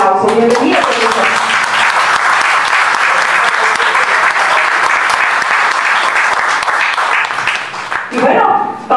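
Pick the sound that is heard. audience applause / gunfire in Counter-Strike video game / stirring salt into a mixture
audience applause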